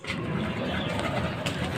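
Pigeons on a rooftop in the late afternoon giving soft throaty coos, a few low repeated calls at moderate distance over faint background hum, with no talking.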